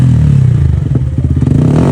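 Yamaha R15 motorcycle fitted with a modified exhaust, revving up close with a rising, throbbing engine note and a rapid burst of pulsing exhaust blips near the end.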